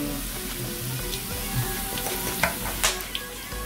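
Meat dropped into a hot pan for an Indonesian meugang dish sizzles loudly and steadily, with a few stirring scrapes and clinks near the end and no one talking.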